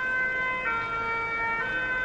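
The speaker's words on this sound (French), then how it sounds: "Le truc des pompiers là, je l'entends peut-être 5 fois par jour" A fire engine siren wails steadily outside, passing at a moderate distance as a continuous tone over constant background noise, with no talking.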